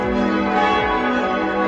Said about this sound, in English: I really wanted you guys to hear the bells